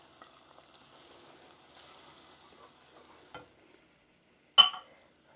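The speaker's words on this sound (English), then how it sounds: "I'm just cooking the flour out so that the starch grains burst and it doesn't taste raw." Flour stirred and cooking in a hot pan for a ham and scalloped potatoes sauce, giving a faint, steady sizzle with soft scraping strokes, then one sharp clatter of utensil against pan near the end.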